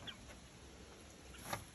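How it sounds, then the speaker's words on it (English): A rescued chicken on a farm porch gives a couple of soft, short clucks over quiet background hiss, faint and somewhat distant, with nobody speaking. "you're going to be my porch chicken for however long you need to be."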